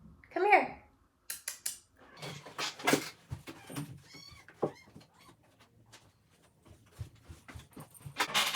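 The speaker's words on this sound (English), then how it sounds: "You might hear my cat Oliver." Pet house cat meowing loudly indoors, with a sharp yowl near the start followed by scattered meows and rustling thumps, mixed with a person talking nearby.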